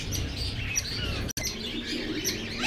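Lovebirds at a Sunday bird market on Kasi Road in Quetta chirp and tweet in quick, overlapping high calls, close and continuous over a low background murmur.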